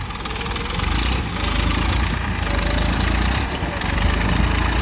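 A Massey tractor engine runs steadily close by, a loud, continuous low rumble that holds even throughout.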